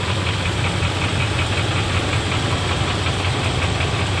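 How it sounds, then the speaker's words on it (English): A Dodge Ram engine runs steadily at idle just after cranking, following an oil pan gasket replacement, with a loud, continuous knocking rumble and no talk. "we're just gonna go ahead and crank it up and check it for leaks here"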